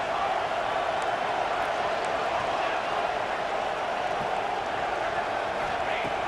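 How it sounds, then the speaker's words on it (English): Football stadium crowd roaring steadily to help the defense stop a two-point try, a dense, continuous wall of cheering and noise without a break throughout. "Listen to the crowd trying to help their defense stop the two-point try."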